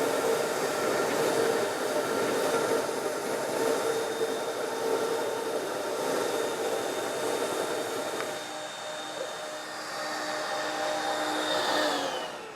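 A Baby Mammoth floor grinder runs continuously with a loud, steady whirring drone that dips slightly in the middle and then swells again, with no talk over it.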